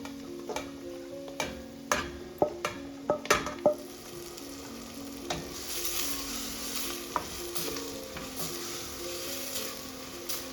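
Mushrooms and translucent onions sautéing in a pan, a soft continuous sizzle under a run of sharp utensil taps and scrapes early on, then a fuller frying hiss as the cooking settles.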